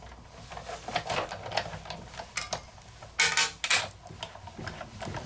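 A die-cutting machine feeding a non-intricate die through in one pass, giving close mechanical creaks, crackles and ratcheting clicks with a couple of louder cracking bursts, no voices.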